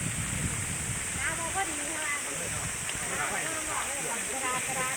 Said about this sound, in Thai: ข้างบนก็เป็นน้ำตก น้ำตกก็ไหลแห้งๆไปหน่อยคนน่ะ ไหลบึมบึมบึมเลย